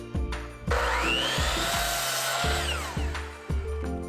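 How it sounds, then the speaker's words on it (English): A miter saw cuts through wood, its motor whining up loudly and close with a harsh rasping cut, while the blade spins in repeated pulses and cycles during the stroke. "I'm just going to use my miter saw to make the cut"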